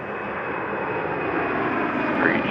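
A United Airlines jet on its takeoff roll from the runway, a steady, loud, broadband engine roar that swells slightly toward the end, with no voices.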